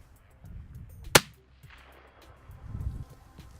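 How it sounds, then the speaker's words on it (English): A single sharp hunting rifle shot fired at a mule deer buck in late-season Colorado, a loud close crack with a quick tail, set against quiet outdoor background and faint low rustling. "I'm gonna shoot. Here we go."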